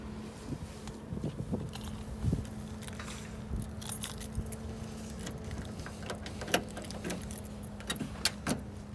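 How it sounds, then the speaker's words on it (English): Keys jingle and click in a series of faint metallic taps while unlocking a truck, over a low steady hum, with a few sharper clicks scattered throughout. "Gotta unlock my truck."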